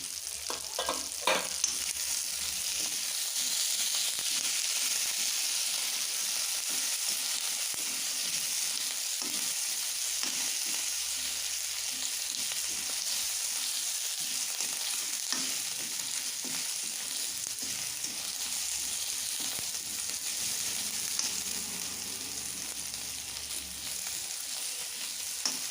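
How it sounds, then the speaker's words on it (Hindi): Green peas sizzle and fry steadily in a pan for paneer biryani, a dense, even hiss that runs throughout with occasional clinks and scrapes of stirring, no voices. "अब इसमें मैं ये मटर डाल रही हूँ।"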